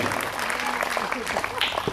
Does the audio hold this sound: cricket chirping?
no